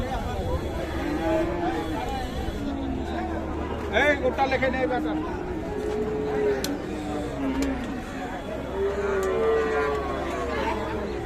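Friesian and cross-breed bulls and calves at the Aftabganj cattle market give several drawn-out moos, some near and some farther off, over a constant background of crowd chatter and talk.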